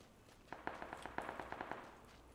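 Gunfire in the video game PUBG, a quick string of about a dozen sharp, fairly quiet shots in an uneven rapid rhythm, fading out afterward.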